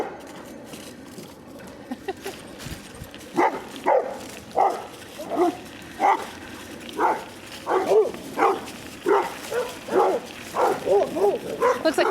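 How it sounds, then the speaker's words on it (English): Several dogs bark in a lively, irregular series of loud yips and woofs, mixed with human talk in the background throughout. "Looks like we have lots of dogs having a good time."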